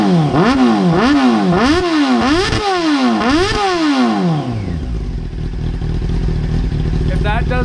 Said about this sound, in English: If that doesn't sound like the best exhaust on the planet, then I don't know what does.